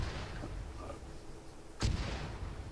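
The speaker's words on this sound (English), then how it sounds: "Oh, I got hit by a mortar." A mortar shell explosion in the ARMA 3 military shooter game, one sharp blast near the middle over a steady rumbling battlefield background, with no talk.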